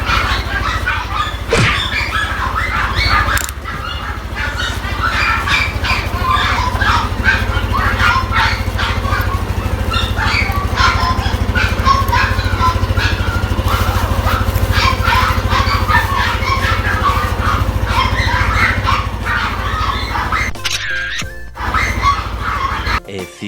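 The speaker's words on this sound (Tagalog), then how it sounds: "Ingay po ng aso." Dogs bark near a roadside shrine during a motorbike ride in Davao, partly buried under loud, constant wind and road noise that runs through the whole stretch.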